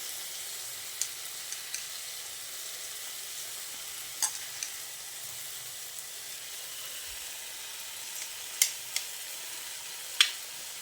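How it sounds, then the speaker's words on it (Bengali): Washed masoor dal frying with spices in a pan, a soft continuous sizzle with occasional spoon clicks and scrapes as it is stirred; nobody speaks. "মুসুর ডালটা দিয়ে মশলার সঙ্গে আরও কিছুক্ষণ ভালো করে কষিয়ে নিচ্ছি।"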